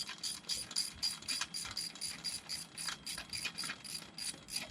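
A ratchet clicks in quick, regular strokes while a greenhouse wind-brace bolt is snugged down, each pawl click crisp and close with no voices.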